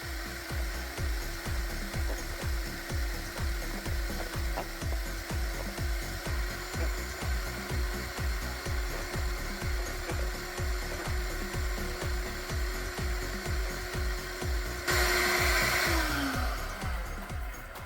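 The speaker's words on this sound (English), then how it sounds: "let's use the Sealegend attachment to pull that lint out" A vacuum fitted with a Sealegend hose attachment pulls lint from a dryer, a loud steady drone with a fast rhythmic pulsing, ending in a brief rush of louder airflow and the motor winding down.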